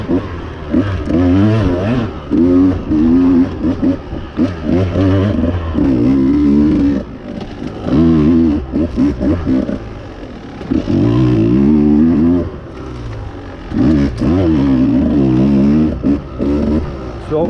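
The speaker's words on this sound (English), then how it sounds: "I'm on a 2020 Husqvarna 150 two-stroke fuel injected" A 2020 Husqvarna 150 two-stroke fuel-injected dirt bike ridden on single track, its engine loud and close, rising and falling in steady revving surges with brief throttle-off dips.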